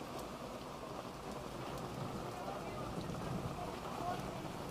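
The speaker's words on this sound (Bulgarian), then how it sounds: "11 минути валежна градушка, гледай" Dense, constant roar of a heavy hailstorm, ice pellets hammering surfaces and an awning in a steady wash of noise that never lets up over the few seconds, with no voices.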